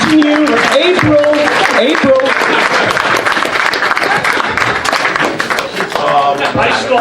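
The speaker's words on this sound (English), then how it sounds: "Give him a round of applause." A charity event audience applauds loudly and steadily, with overlapping cheers and voices mixed into the dense clapping throughout.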